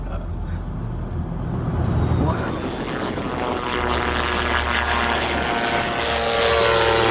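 An airplane drones overhead with a steady engine hum and propeller buzz that builds slightly in loudness, joined by a low rumbling underneath, with no speech.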